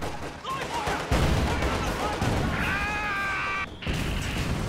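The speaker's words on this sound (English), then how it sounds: "Mortars also landing." Mortar shells land in a Company of Heroes battle with dense, rumbling explosions and crashing impacts amid ongoing gunfire, while battlefield noise and whistling tones layer over the clamour.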